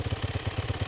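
A Yamaha WR450F motorcycle engine idles while warming up, with a steady, quick low thump close by and a light mechanical clatter. No one speaks.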